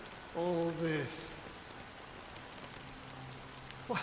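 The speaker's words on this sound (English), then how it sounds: "it's still raining" Steady rain falls in a video game, a soft continuous hiss through the whole stretch, with voices talking over it near the beginning and again later on.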